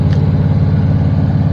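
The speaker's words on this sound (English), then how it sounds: "Now it's in high idle, about 1800 RPM." A carbureted engine treated with STP runs at high idle around 1800 RPM, producing a steady, loud, even low rumble that holds without any revving.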